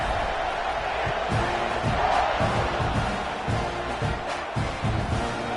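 Football stadium crowd roars steadily at kickoff of a Texas game, a dense, continuous wall of cheering and shouting heard loud and close.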